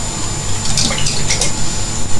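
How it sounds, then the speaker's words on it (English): Potable tap water running into a container for rehydrating yeast in home brewing, a steady gurgling flow with light splashes throughout. "getting some water"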